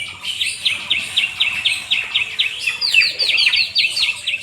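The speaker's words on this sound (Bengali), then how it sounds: "আর তোমরা পাখির কিচিরমিচির আওয়াজ শুনতে পাচ্ছ তো?" Many small birds chirp and tweet in quick repeated phrases on a foggy early morning in a village, the calls layered and fairly close over a soft background hum, with no one talking.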